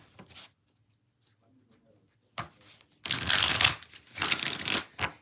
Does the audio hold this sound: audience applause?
no